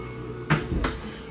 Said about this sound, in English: So it's got that new creak sound.